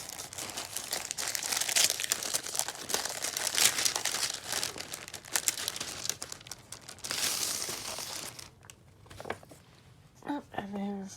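Double-wrapped plastic packaging around a birthday pouch crinkles and rustles loudly and close up in repeated bursts, followed by quieter handling and a brief voice at the end.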